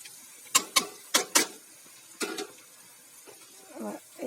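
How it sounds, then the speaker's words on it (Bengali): Ground turmeric, cumin, chilli and coriander are stirred with fried ingredients for an egg curry, giving a few quiet, separate scraping strokes of a spoon against the pan with pauses between them. "এটাকে আর একটু নেড়ে নিতে হবে।"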